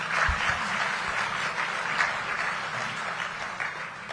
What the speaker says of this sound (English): We can clap on that.